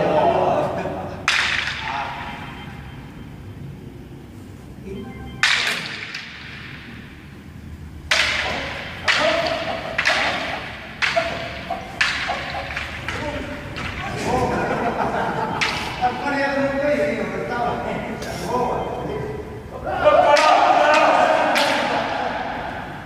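Wooden sticks crack together in a jogo de quelha stick-fighting demonstration in Fafe, Portugal, with sharp strikes coming singly and in quick clusters, moderately near, over crowd murmur and people talking.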